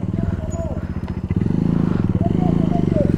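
A motorcycle labours in first gear up a rough, potholed mountain road in Sikkim after flooding, its engine a steady close chugging throb, with people talking over it.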